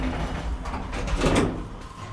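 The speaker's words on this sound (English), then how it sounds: "The automatic doors will be on that side only." Automatic doors of an old Kone traction elevator from 1989, a six-person lift in Kokkola, Finland, slide with a soft, rumbling whoosh and a muffled thud near the end.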